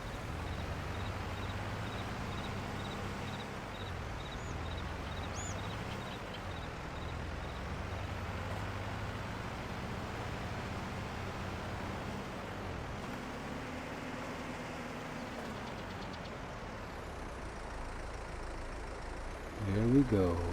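A tractor in Farming Simulator 22 drives along with a low, steady engine drone at moderate level while someone talks over it throughout.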